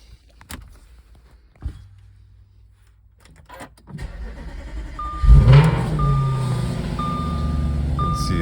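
A 2014 Audi RS5 cold start in a home garage: a few quiet clicks, then the engine fires with a loud flare around five seconds and settles into a steady, busy high idle while a warning chime repeats.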